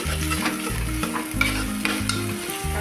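Curry leaves and chopped onions hit hot oil and are stirred in a pan, giving a loud, close sizzle with repeated scraping spoon strokes in a steady rhythm, with no speech.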